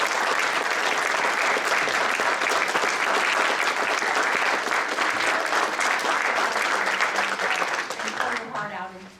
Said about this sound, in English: And now you're welcome to applaud.